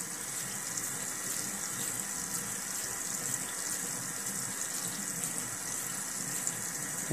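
Water runs steadily from a bathroom tap into a sink for rinsing after toothbrushing, a constant close splashing hiss that holds through the whole stretch with no talk over it.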